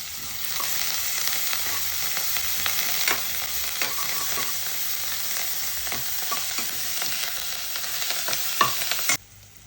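Curry leaves hit hot oil in a frying pan already holding small onions and garlic, giving a loud, steady sizzle with stirring scrapes throughout, cutting off abruptly near the end.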